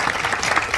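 A short burst of steady clapping from a presentation audience, moderately loud and continuous for under a second.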